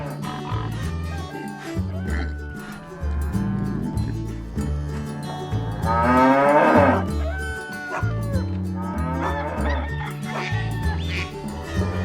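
Texas Longhorn cattle low in long drawn-out moos over a layered, tonal backdrop. One louder, rougher call rises in the middle, with other animal sounds mixed in and no speech.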